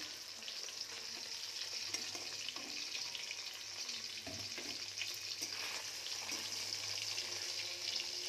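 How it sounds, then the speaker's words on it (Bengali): Steady, crackling sizzle of tilapia fish frying in hot oil, continuous and close, with occasional soft clinks of a utensil. "এই মাছগুলো সুন্দর করে ভেজে নেব"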